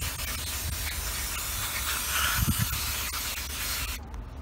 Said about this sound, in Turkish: Şöyle bir balata spreyi ile temizliğini de yapıyoruz.